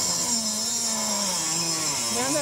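A DeWalt power tool blade grinds steadily through a metal wheel at a trade show, a close, continuous buzzing whine with a slight rise in pitch at the end.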